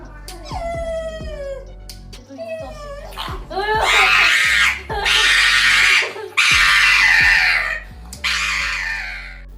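A pet dog crying and howling in long, loud, wavering wails to stop its owner cutting a cake, starting with rising whines and sharp yelps, then several sustained howls with short gaps between them, close and prominent.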